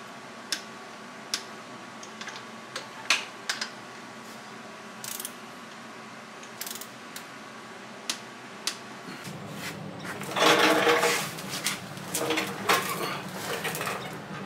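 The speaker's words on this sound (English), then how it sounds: "I've got a snap-on torque wrench, so it's a good one. We're going to torque these all down" A Snap-on torque wrench tightening rod cap screws on a John Deere 350B bulldozer engine gives sharp metallic clicks at irregular intervals over a steady hum, then louder clattering and scraping of tools takes over.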